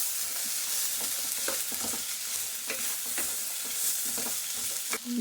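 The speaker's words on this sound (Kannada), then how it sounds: "ಸ್ವಲ್ಪ ಪಡ್ಲುಕಾಯಿ ಹಾಕಿ ಹುರುಳಿಕಾಳು ಹಾಕಿ ಚೆನ್ನಾಗಿ ಫ್ರೈ ಮಾಡ್ಕೊಳ್ಳಿ" Ridge gourd and horse gram frying in a pan, a steady soft sizzle with intermittent scraping strokes of a stirring spoon, close by and moderately quiet.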